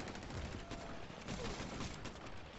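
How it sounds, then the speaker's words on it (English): Shots from a newly unlocked, non-automatic gun in the video game Titanfall, a quiet, dense spatter of gunfire and distant bangs running throughout under game ambience. "I'm using the new gun now that I just unlocked."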